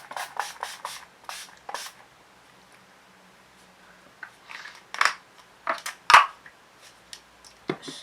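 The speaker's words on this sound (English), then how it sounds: "spray my whole face with the Urban Decay All Nighter Makeup Setting Spray" Urban Decay All Nighter makeup setting spray misted onto a face in short, close hissing bursts, several quick pumps at the start, a pause, then another cluster of sprays.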